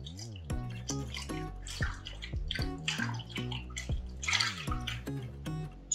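Salted water pours over cucumbers in a glass bowl for Korean cucumber kimchi, a steady close splashing and trickling stream with bright ringing drips throughout.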